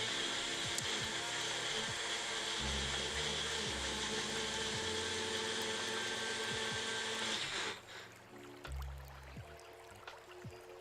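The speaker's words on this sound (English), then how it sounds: "y'all hear that blender going?" A kitchen blender runs loud and steady with a high whirring roar during raw vegan meal prep, then cuts off abruptly near the end, leaving quieter room sounds behind it.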